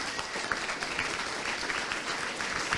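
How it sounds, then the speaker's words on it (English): An audience at a tech presentation at a games festival claps steadily, a dense and even patter of many hands, fairly close and continuous throughout. "Just want a round of applause quickly for Rocket Jump Ninja"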